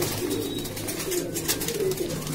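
Pigeons coo softly at a pigeon market in Loni, Ghaziabad, with several low, rolling coos overlapping against a busy, murmuring background.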